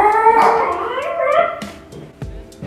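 Puppies howling indoors at a home, a drawn-out wavering howl with yips, fairly close and loud, tapering into whimpers toward the end, no talking.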